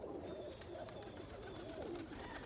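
Roller pigeons, including a young brown bald-head roller hen, coo softly in a steady low murmur, with several overlapping rounded calls rising and falling close by.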